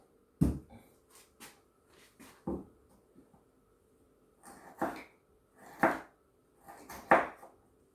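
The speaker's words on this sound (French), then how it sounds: "j'ai épluché le gingembre, je vais le découper en petits morceaux" A knife chops peeled ginger into small pieces on a board in a home kitchen, cooking for a potato and spinach curry: about eight sharp, separate knocks with uneven gaps, close and fairly clear, with no talk.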